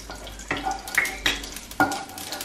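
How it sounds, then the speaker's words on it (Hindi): Mustard seeds dropped into hot oil, giving a few sharp crackling bursts and a steady sizzle with some stirring noise, close up and fairly quiet, no voices. "अब इस राई को जो है मैं इसमें छोड़ दूंगी"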